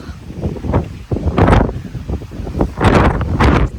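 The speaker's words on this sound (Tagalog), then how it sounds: "Ang lakas ng mga hangin." Strong gusts sweep across a hilltop above Sorrento, roaring against the microphone in loud, uneven surges that rise and fall over several seconds.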